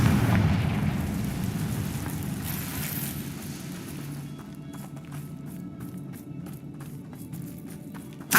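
A Confringo blasting spell explodes in Hogwarts Legacy, a heavy rumbling blast that fades into crackling debris and scattered pattering, ending with a short louder burst.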